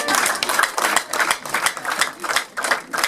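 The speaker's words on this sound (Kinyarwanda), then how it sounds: "mumuhe amashyi meza" A crowd applauds with steady, moderately loud clapping that swells and dips in bursts over a few seconds.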